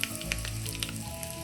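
Dried red chillies and mustard seeds frying in hot coconut oil: a steady close sizzle with sharp crackling pops scattered through, no voices.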